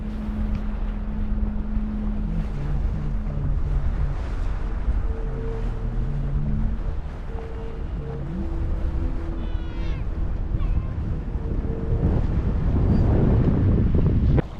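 Gusty wind rumbles against the microphone at a fishing harbour with calm shallow water, with low engine-like hums drifting in and out and the roar swelling toward the end.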